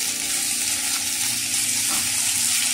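Green chillies, ginger and tomatoes sautéing in a pan, a steady hissing sizzle with faint crackles, loud and close and without pause.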